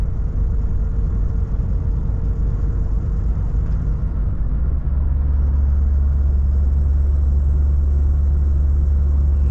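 A Volvo FH 540 truck climbing a mountain pass on a run to Yakutsk: its engine holds a steady, deep rumbling drone heard from inside the cab, with the low pulse thickening midway as the load comes on. No talking.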